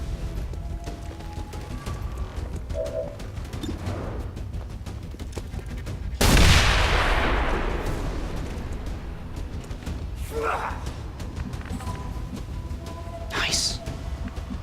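A pistol shot in XCOM 2 sets off a claymore, making a sudden loud blast that decays into a rumbling tail, with quieter game effects and someone talking around it.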